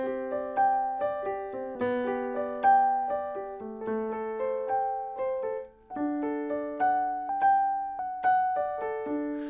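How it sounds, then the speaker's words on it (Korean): Arpeggiated piano voice from an AEROBAND digital guitar, rolling broken chords in steady overlapping notes, sustained and bright, played alone with no talking. "피아노로 아르페지오를 하면은"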